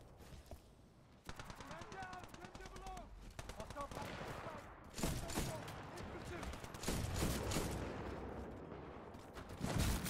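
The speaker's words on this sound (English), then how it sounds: "They're shooting at something." Gunfire in the video game Titanfall 2 comes in rapid automatic bursts and single cracks, growing louder and denser over time, with a player talking over some of the shooting.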